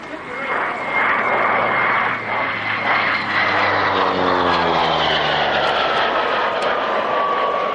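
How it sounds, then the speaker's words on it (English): A turboprop aircraft passes overhead at an airshow, its loud, jet-like whining roar sweeping down in pitch as it goes by, steady and close. "Now it's got a turboprop, so you might hear it sounding a little like a jet as it comes down."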